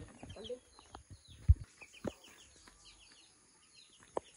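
Pet chickens cluck in scattered short bursts at a farmyard coop, a few louder calls standing out against low background rustle.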